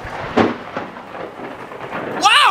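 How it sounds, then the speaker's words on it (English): Thunder rumbles through a rainstorm outdoors, with a steady wash of rain and a couple of sharper cracks; a voice briefly exclaims near the end. "Y'all hear the lightning?"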